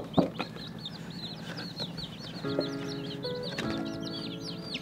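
Baby chicks chirping continuously in a close, busy chorus of rapid high peeps, with occasional soft clucking and handling knocks underneath, no talking.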